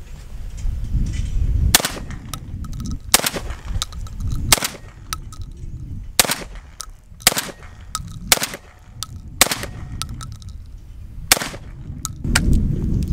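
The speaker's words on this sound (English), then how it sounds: "I'm gonna do one shot at a time just to make sure it doesn't blow up in my face" Beretta 1301 Tactical semi-automatic shotgun fired one shot at a time outdoors, about nine sharp, loud blasts spaced a second or so apart over a low rumbling background.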